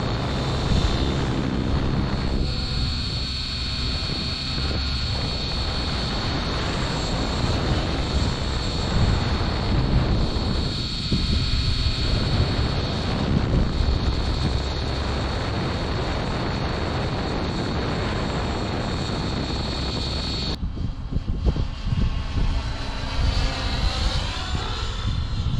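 A radio-controlled helicopter flies outdoors in a steady wind, its rotor and motor whine droning continuously and fairly loud, with a brief dip near the end before the drone resumes.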